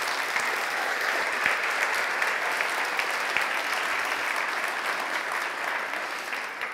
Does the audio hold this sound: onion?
no